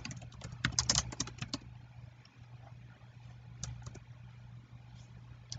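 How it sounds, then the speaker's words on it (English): Typing on a computer keyboard while entering a page name into a Facebook business page, a quick burst of close keystrokes at the start, then a quiet pause before a few scattered taps over a low steady hum. "Just by typing in the page name."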